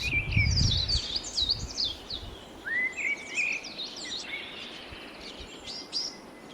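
Small birds chirp and call at the 16th-century Chandrashekhara Temple in Hampi, a scatter of short, bright tweets repeating throughout over a soft outdoor background, with a brief low rumble at the start.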